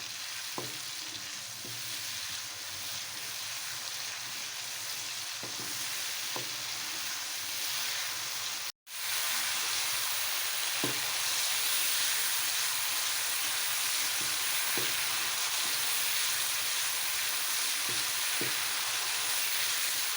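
Masala of garlic and ginger frying in a pan for masoor dal: a steady, close sizzle with soft stirring clicks throughout, briefly cutting out once midway.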